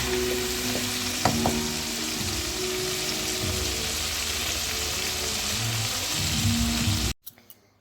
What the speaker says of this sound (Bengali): শীষ পালং আর বাঁধাকপি ওইগুলো দিয়ে ভালো করে নাড়াচাড়া করে নিলাম